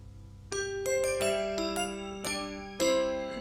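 Bright bell-like piano notes from a Kontakt piano layered with a bell sound, struck one after another, each ringing out with a shimmering chime that sustains and overlaps, played alone at moderate volume.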